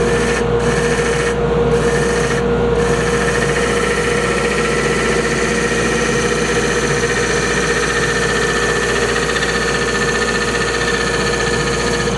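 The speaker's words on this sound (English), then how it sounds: "I am canting this carbide tool as I cut" Carbide tool cutting a bangle on a lathe, a steady loud whirring machine drone with a constant high whine, continuous and close, a few brief breaks in the hiss near the start.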